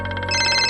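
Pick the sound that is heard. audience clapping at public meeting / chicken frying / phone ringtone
phone ringtone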